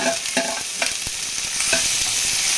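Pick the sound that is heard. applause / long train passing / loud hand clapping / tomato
tomato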